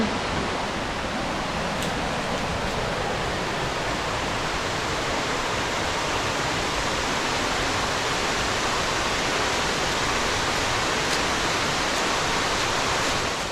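A waterfall in the Balandra forest roars as a dense, unbroken broadband rush of falling water, loud and close, steady for the whole stretch with no voices.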